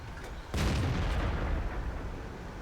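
A finishing shot from a tank cannon in World of Tanks, one sharp boom that cuts in abruptly and rolls off into a sustained low rumble.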